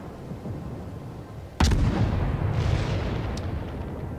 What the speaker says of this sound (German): Der schießt gegen die Felsen.